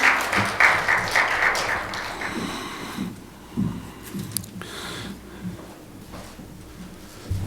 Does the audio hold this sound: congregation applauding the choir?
yes